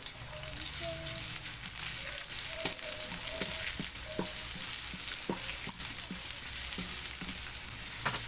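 Ginger and onion sizzle in a pan for a native-chicken tinola, a steady frying hiss with the clicks and scrapes of stirring. No one speaks over the cooking.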